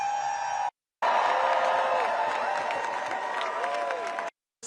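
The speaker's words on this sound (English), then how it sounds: "Take a look at this huge crowd right here in our nation's" A huge No Kings protest crowd in the nation's capital roars with cheering, whoops and applause, a dense, steady wall of sound heard from a distance that cuts off abruptly at both ends.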